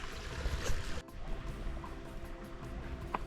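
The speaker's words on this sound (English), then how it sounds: "And like immediately I hear water." A stream runs through a canyon in the Sandia Mountains, its water a faint, steady wash under hiss from the surroundings, heard from out of sight with a couple of small clicks.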